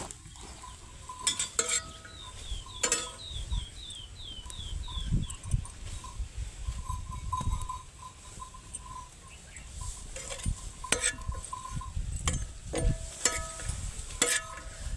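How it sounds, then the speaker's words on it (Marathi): A masala of coconut, coriander seeds, chillies, garlic and onion roasting in oil in a pan, with a soft sizzle under repeated spatula scrapes and clinks of metal on the pan, close by; faint birdsong chirps in the background. "हा मसाला सगळा आपल्याला मस्त असा भाजून घ्यायचा आहे"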